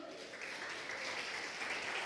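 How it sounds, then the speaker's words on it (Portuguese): A church congregation applauds the Lord during a Portuguese-language evening service, a steady wash of distant, faint applause carrying on throughout. "Você pode aplaudir ao Senhor?"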